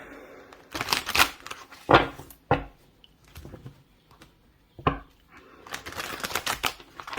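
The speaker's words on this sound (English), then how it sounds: "I'm going to give this a shuffle." Tarot cards are shuffled in several short, crisp bursts of riffling and sliding, with pauses between them, close and fairly quiet.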